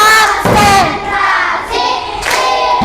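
A sixth-grade class in Indonesia does the 'tepuk konsentrasi' clapping routine, children chanting in unison with bursts of rhythmic claps and thuds in a loud, close classroom.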